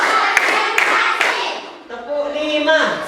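A classroom of children clapping a counted pattern: several sharp claps spaced through the first second and a half, then fading into sustained voices and tonal sound, moderately loud and close.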